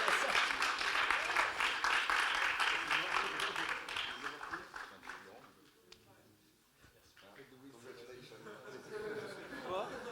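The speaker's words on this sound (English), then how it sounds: "So round of applause" Applause from an audience at an entrepreneurs' startup awards event, a dense wash of clapping that swells, fades to a lull, then picks up again faintly.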